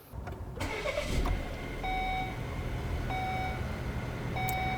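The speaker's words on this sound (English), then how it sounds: "we're going to start the engine and roll through the gears" A Volvo car engine cranks and catches, then settles into a steady idle while short electronic chimes repeat at intervals.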